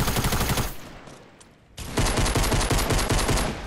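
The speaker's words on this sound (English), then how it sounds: "I'm just gonna shoot him" Rapid automatic rifle fire from Fortnite, a dense rattle of close, loud shots that fades to quiet briefly before a second sustained burst resumes.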